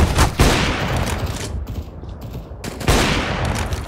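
Counter-Strike gunfire on the office map: a dense, sustained burst of rapid shots that thins briefly mid-clip before another loud volley resumes, close and full.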